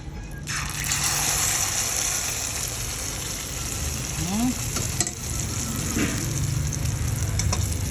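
Eggplant and eggs frying in a pan, a loud, continuous sizzle that starts at once and holds steady, with a few faint clinks and scrapes, and no speech.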